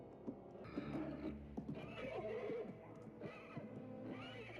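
A horse whinnies in the 1978 animated Lord of the Rings film, wavering, high-pitched calls over a dense, busy background of movement, fairly faint overall.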